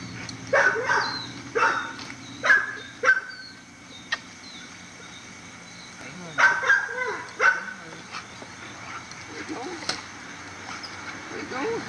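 A young pit bull dog barks in several short bursts, two or three quick barks at a time with pauses between, fairly close outdoors in a yard, over a low background hum.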